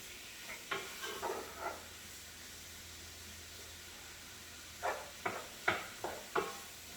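Onions and bacon fry for chilli in a pan, a low steady sizzle broken by clusters of sharp scraping stirs near the start and again toward the end, no voices.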